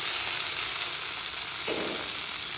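Cashews sizzle and crackle steadily in hot ghee, a constant hiss with faint bubbling and a brief stirring sound partway through.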